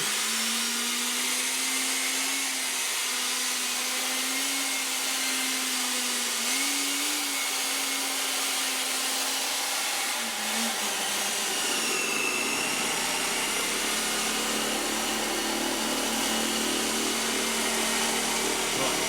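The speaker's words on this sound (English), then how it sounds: "I'm going to buff it up with this polisher, because that will just work in any last little bits of oil and start to give it a bit of a sheen" An electric polisher buffs Danish oil into an oak table, giving a steady, close motor whine and whir that runs the whole time, its tone dropping and roughening slightly partway through.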